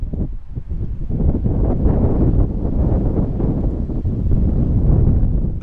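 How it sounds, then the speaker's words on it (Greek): Strong, steady wind on Santorini buffets the microphone throughout, a constant low rumbling roar. "Με κουνάει ο αέρας."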